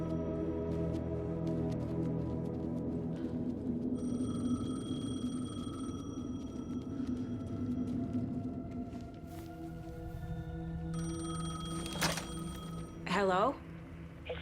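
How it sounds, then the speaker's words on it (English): A payphone rings in Alan Wake 2, with repeated bright ringing bursts over a low droning ambience in the second half, while a voice talks underneath. "The payphone was ringing."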